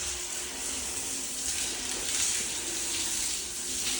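Pressurized water rushes out as a hydrostatic pressure test is released, a steady loud hiss and gush with no pauses for the whole stretch and no voices.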